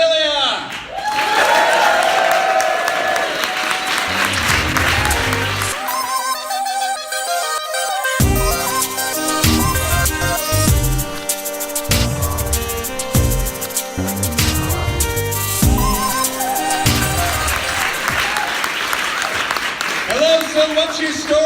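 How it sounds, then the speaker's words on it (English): A live audience at a So What's Your Story storytelling show in Brisbane claps and cheers, with the applause rising and fading around stretches of stage music and a loud host voice over a PA. "Let's have a huge round of applause"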